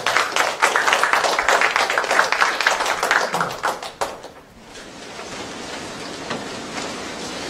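A lecture audience claps at the end of a mathematics talk, a dense burst of applause lasting about four seconds before fading into quiet room noise.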